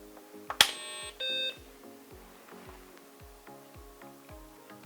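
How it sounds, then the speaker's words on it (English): A BBC Model B Issue 7 home computer undergoing repair sounds its power-on beep: a sharp click, then a short, steady electronic tone. Faint regular ticking continues underneath. "that was a straight power on beep"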